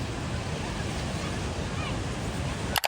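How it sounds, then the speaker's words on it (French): Ocean surf rolling in at Waikiki, Hawaii, where surfers ride the waves: a steady, loud broadband wash with some wind buffeting, ending in a few sharp handling knocks. "des vagues."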